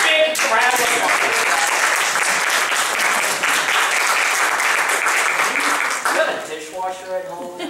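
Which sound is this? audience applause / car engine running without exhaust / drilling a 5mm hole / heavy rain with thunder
audience applause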